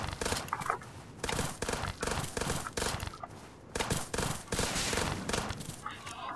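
Rapid pistol gunfire in a video game, with loud, dense bursts of shots repeating across the whole stretch and only brief pauses between volleys.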